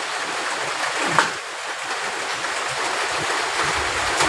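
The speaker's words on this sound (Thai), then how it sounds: "โอ้ฝนมาก" Heavy rain pouring down outdoors, a dense steady hiss of falling water with no speech, holding fairly constant with a brief louder spatter near the start.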